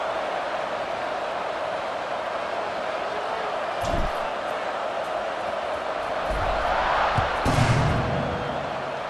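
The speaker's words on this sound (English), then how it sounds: "this crowd is buzzing after that last score" Football stadium crowd at a college game between Texas Tech and SMU, buzzing after a touchdown: a steady, broad roar from a large crowd with a few louder swells and thumps, and an announcer talking over it.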